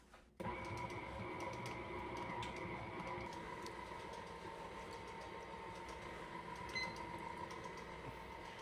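A stand mixer beats mascarpone and cream cheese at medium speed, kicking in abruptly and then holding a steady, droning mechanical whirr with a faint tonal hum from start to finish.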